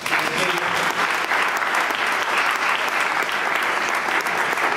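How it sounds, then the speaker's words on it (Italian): An audience at a rock music event applauds in a loud, sustained wash of many hands clapping, evenly dense from start to finish. "vorrei che gli facessi un applauso"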